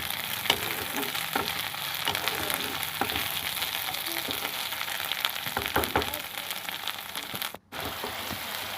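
Ginger paste and crushed garlic sizzle steadily with onions in a hot pan, a continuous close frying crackle with occasional stirring clicks and a brief dropout near the end.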